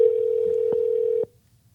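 A steady telephone dial tone hums loud and close for over a second with a couple of faint clicks, then cuts off abruptly into near silence.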